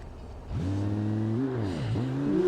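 A Lamborghini engine in the driving game BeamNG.drive revs up from about half a second in, its pitch climbing, dipping, then rising again; steady and loud, no talking.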